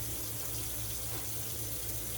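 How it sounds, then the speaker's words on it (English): Water runs steadily from a tap into canning jars in a sink while preparing to can corn, a soft continuous rushing and splashing with no talk over it. "I'm going to add a little bit of water to each one at this moment"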